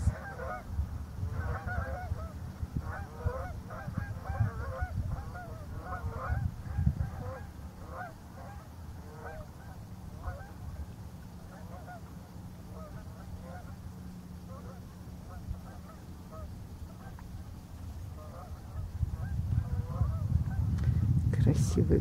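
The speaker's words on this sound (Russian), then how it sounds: "гуси летят" Canada geese fly over the Ottawa River at foggy sunrise, honking in a steady chorus of repeated calls from a distance, faint and continuous under low background rumble.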